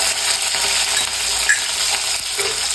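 Green chilli, ginger and garlic sizzle in hot oil, with a steady close crackle and faint stirring clinks throughout.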